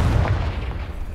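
Confringo fire spell blast in Hogwarts Legacy, a short, loud, rumbling boom that stays dense and heavy in the lows for about a second, with no talk over it.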